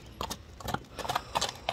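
A ridden horse walks along, hooves striking the ground in a quick, uneven clip-clop that sounds close and moderately loud.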